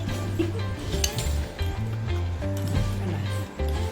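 A metal whisk beats chicken eggs in a bowl while preparing a special egg and goat brain fry, giving quick, irregular metallic clinks over loud background music.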